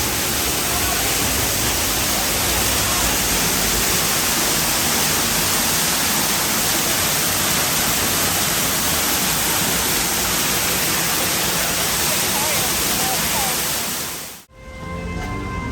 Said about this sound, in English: I wonder what waterfall this is supposed to represent.